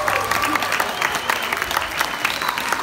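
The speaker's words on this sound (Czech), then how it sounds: "Tleskejte všichni!" An audience at a children's stage performance claps together in a dense, steady round of applause that carries on throughout, fairly close and lively.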